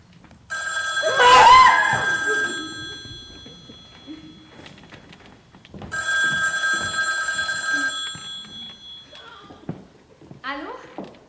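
Telephone bell ringing in two bursts, a loud ring near the start and a second ring a few seconds later, with people talking around and between the rings.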